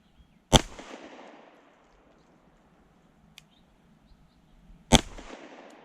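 Two sharp, loud pistol shots from a CZ Shadow 2 Compact, fired about four seconds apart outdoors, each with a short echoing tail, and a faint tick in the gap, with no voices.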